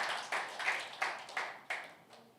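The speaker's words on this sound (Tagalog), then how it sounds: "Can we give the Lord a clap offering of praise?" A church congregation claps in praise, about six distinct, evenly spaced bursts of applause at a moderate distance, fairly quiet, with no talking.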